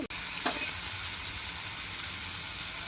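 Tomatoes with salt fry in a pan for village-style peanut chutney, a loud steady hissing sizzle that starts with a brief clatter, with no talking.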